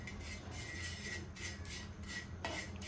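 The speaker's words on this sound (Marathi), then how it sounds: "तर मस्तपैकी मी भाजून घेत आहे इथे." Dried fish (sukat) dry-roasting on a hot griddle, giving a steady dry rasping and scraping texture with light metallic stirring scrapes in bursts, close and fairly quiet, no speech.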